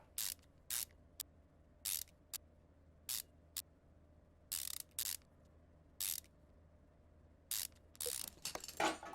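Cylinder head bolts tightened in a cross pattern in Car Mechanic Simulator, a series of short, sharp mechanical ratchet bursts separated by brief pauses, close and crisp, ending with a quick cluster of clicks.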